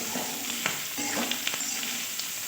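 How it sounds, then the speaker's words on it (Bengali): Mixed vegetables for a Maggi fry sizzle softly in a wok over low heat, with a steady hiss broken by light scraping and stirring clicks. "হালকা আঁচে সুন্দর করে সেদ্ধ করে মানে ভেজে নিতে হবে যাতে সেদ্ধ হয়ে যায়"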